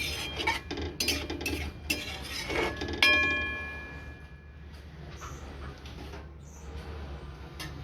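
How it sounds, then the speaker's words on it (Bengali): A spoon scrapes and clinks against a pan while okra masala curry with turmeric is stirred, a run of close, rhythmic metallic strokes that thin out into quieter scraping and a soft simmer. "এবার ভালো করে নেড়ে নেব।"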